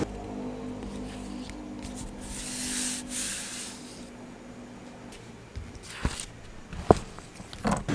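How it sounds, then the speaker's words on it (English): A cloth wipes dirt off a Sintra PVC foam board. The rubbing and swishing is quiet and close, with a few faint knocks and taps toward the end. "I am wiping the board because again, I need to remove the dirt"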